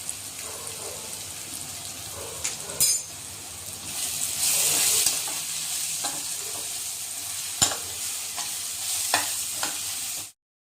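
Turmeric and coriander powder go into a sizzling tempering for Maharashtrian kanda poha, giving a steady bright sizzle with scattered spoon clinks and a louder burst of frying midway, heard alone without talk.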